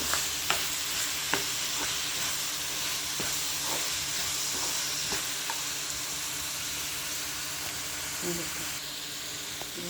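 Tomatoes frying in a pan for chutney, a continuous hissing sizzle with repeated sharp scrapes and clinks of a spoon stirring, close and steady throughout.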